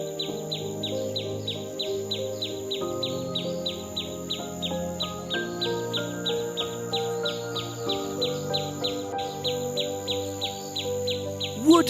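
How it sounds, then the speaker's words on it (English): A finch sings in quick, evenly repeated high chirps that run steadily across the whole stretch, layered over soft background music. "Finch. It's a finch."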